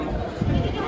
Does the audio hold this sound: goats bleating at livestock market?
yes